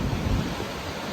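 The fast-flowing Saraswati river near Mana village roars in a dense, loud, continuous rush of turbulent water, broad and unbroken with no voices over it.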